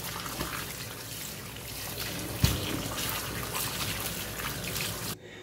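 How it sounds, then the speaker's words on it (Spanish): Liquid from an orange peel preserve trickles steadily through a kitchen strainer, a continuous close splashing flow with one brief knock midway before it cuts off. "Y la vamos a ir pasando a un colador."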